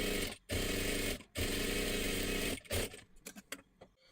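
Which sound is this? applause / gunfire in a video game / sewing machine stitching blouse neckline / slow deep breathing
sewing machine stitching blouse neckline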